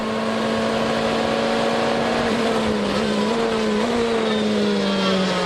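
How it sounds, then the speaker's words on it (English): McLaren and Ferrari race cars in a Supercar Challenge round at Slovakiaring, engines holding a steady loud tone that rises and dips slightly as they battle toward the checkered flag, continuous throughout with no talk. "Fastest sectors of the race from both cars as they battle towards the checkered flag."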